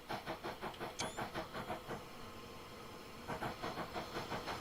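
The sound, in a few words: steam locomotive working hard in train simulator video game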